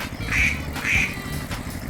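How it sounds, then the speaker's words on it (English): Farm duck quacking: two loud nasal quacks close together, a fainter third following, over a busy low background murmur. "Duck."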